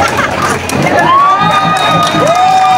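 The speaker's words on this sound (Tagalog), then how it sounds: "Wala po bang palakpakan at hiyawan para kay Bene-Bene, Zozie, Bene-Tunzi, ng buwan." A crowd cheers and whoops at a Queen of Baclaran 2024 national costume pageant, loud and close, a wall of shouting with rising whistles or cries cutting through it.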